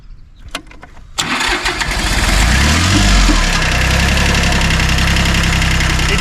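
An old restored tractor engine cranks over a few times with sharp clicks, then catches and roars into a loud, steady running rumble that holds for several seconds, close by, with no talk.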